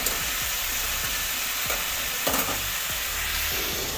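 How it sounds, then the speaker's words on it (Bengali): Spices frying for a fish curry, a steady close sizzle filling the pan with scattered spatula scrapes and stirring clicks throughout, no voices. "মাছের ঝোলে মশলা দিয়ে এখন কষাটা আরম্ভ করে দিয়েছি, কষা মশলা"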